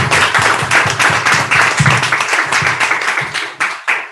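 Audience at a Toastmasters club session in a meeting hall breaks into sustained applause, dense clapping filling the room for several seconds before tapering off at the end.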